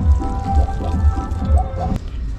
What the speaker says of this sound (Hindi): अब इसको बढ़िया सा निचोड़ लेंगे।